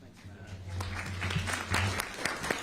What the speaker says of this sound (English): Matt deserves applause.